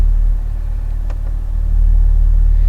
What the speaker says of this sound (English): Exhaust sound just immediately starts to change